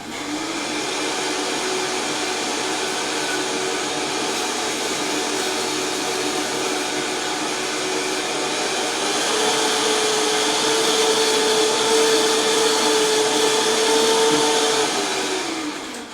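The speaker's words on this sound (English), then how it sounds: "that blender is savage. That's so fucking noisy" A blender running, a loud continuous whirring drone that holds steady and then rises slightly in pitch as the load changes, ending with a brief dip as it winds down.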